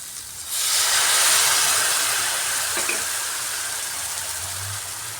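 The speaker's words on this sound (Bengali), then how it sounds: "মশলা কষানোর এই পর্যায়ে সামান্য জল দিচ্ছি।" Water poured onto fried masala in a hot pan while cooking a South Indian style egg dish, setting off a loud, steady hiss and sizzle that swells up after a brief quiet start and then slowly eases.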